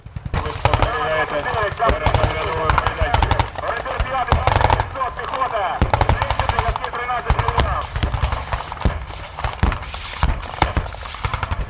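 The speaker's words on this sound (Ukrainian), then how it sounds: "довелося провести вогневе прочісування БМП, БТР, гарматно-ракетний комплекс Тунгуска, мінометна батарея" Loud, sustained military gunfire at an army exercise with infantry fighting vehicles, armoured personnel carriers, a Tunguska gun-missile system and a mortar battery, dense rapid bursts and bangs overlapping throughout.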